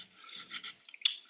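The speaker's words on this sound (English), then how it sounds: "what I'm going to do is get some sandpaper" Sandpaper rasping across foamboard in short, repeated strokes, close and fairly loud, with brief gaps between passes.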